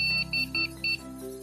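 Computer motherboard on a Windows 98/XP era build gives short electronic power-up beeps: three or four evenly spaced, high-pitched tones over a low hum, fairly quiet and close.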